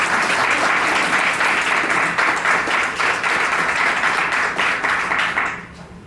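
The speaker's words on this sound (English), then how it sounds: "give Joseline a round of applause" An audience applauding at an exhibit event, dense sustained clapping from a crowd that stays full and even before fading away near the end.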